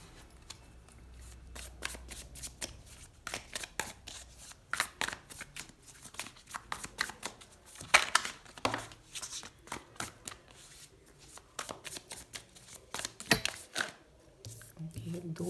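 Tarot cards being shuffled by hand in quick, crisp riffling bursts, with soft papery slaps and pauses between runs, close and clear, with brief low murmurs of a voice in the background.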